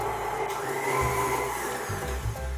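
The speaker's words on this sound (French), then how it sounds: "je vais commencer par mélanger mon beurre doux tout seul dans mon robot" A stand mixer beats unsalted butter alone for cupcake batter, a loud continuous motor whir with a rough churning edge that shifts slightly in pitch as the paddle works, close and uninterrupted.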